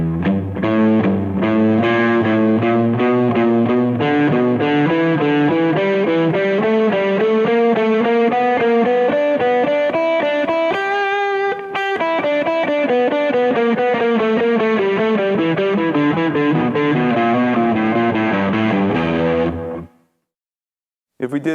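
Distorted electric guitar plays a continuous run of ascending thirds in the E blues scale using open strings, loud and steady for about twenty seconds before stopping abruptly.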